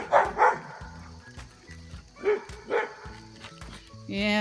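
A dog barks several times in short bursts outdoors near a backyard chicken coop, loud and close, while music plays softly in the background.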